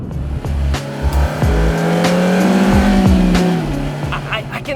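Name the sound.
2018 Suzuki Swift Sport cornering, tires squealing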